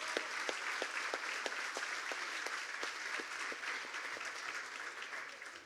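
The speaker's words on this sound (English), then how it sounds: "Let's have another round of applause for Doreen." Luncheon guests give a sustained round of applause, dense steady clapping from a large room heard at a distance with no voices over it.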